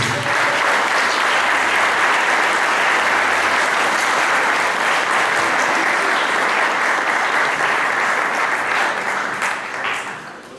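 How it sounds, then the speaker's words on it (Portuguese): A church congregation applauds during a sermon, sustained, dense clapping at a steady loud level for about ten seconds before tapering off at the close. "Quem entendeu, aplaude a Jesus."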